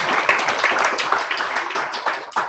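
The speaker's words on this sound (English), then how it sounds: "So round of applause for his latest achievement." An audience at a bookstore book launch applauds, a dense, steady burst of clapping from many hands nearby, lasting a few seconds before fading slightly.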